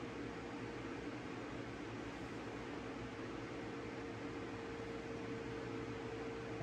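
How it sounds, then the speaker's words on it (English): An electric fan runs steadily in a workshop during a trolling motor rebuild, giving a constant loud broadband whoosh with a faint steady hum, unbroken and with no voices for the whole stretch. "Sorry for the fan noise."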